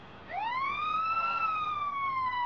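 An ambulance siren starts abruptly and sweeps up into a high, drawn-out wail that slowly sags in pitch. It sounds clear and fairly close against a quiet background, with no speech over it.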